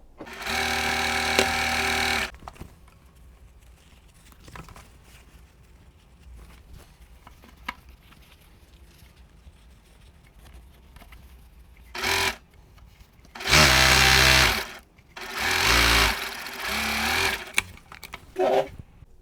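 A sewing machine chain-pieces quilt strips for a Christmas quilt, its motor whirring in several loud close bursts of stitching separated by quiet pauses.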